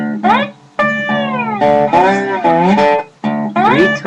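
Sliding guitar notes in open G tuning glide up and down in pitch, with low thumbed bass notes underneath, played in short phrases with brief gaps.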